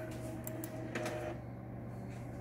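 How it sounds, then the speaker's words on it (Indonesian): A Canon inkjet printer runs a test print, its carriage and feed mechanism whirring and clicking steadily at close range, with a few sharper mechanical ticks and no talk. "sekarang coba kita tes print lagi ya"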